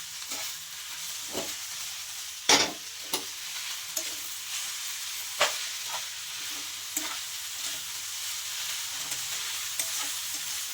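Street-style chow mein noodles being stirred and fried in a pan: a steady sizzle runs throughout, broken by sharp scraping and clanking strokes of the spatula, close up with no talking.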